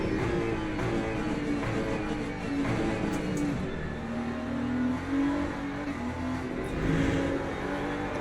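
A Ferrari LMGT3 race car in the racing game Le Mans Ultimate at Interlagos, engine revving and shifting through gears with rising and falling pitch, loud and continuous at close range.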